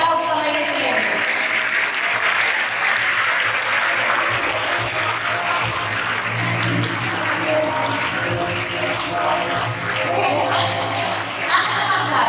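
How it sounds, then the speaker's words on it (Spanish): Sustained applause from the crowd at a sports awards gala fills the room, a thick, steady roar of clapping that runs on without a break while voices talk over it. "Esa aplauso también es excelente"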